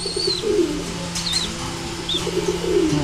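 Thin, high chirping calls from a young bird repeat a few times over a low background hum, with soft cooing and faint rustling nearby.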